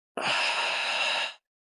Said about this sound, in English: Inhale. Hold. Exhale.